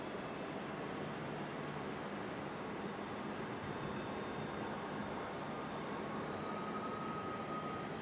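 Embraer E-175 airliner at Raleigh Durham airport gives a steady, broad engine roar at moderate distance, unbroken for several seconds with no voices.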